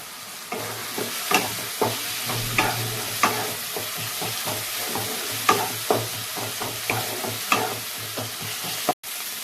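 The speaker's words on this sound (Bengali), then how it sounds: "আমার মশলাটা ভাজা হয়ে গেছে" Masala of turmeric, red chilli, coriander and cumin powders frying in oil, a steady close sizzle broken by regular scraping stirs of a spoon against the pan.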